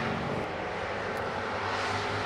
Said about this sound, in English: Uh-oh, choppers.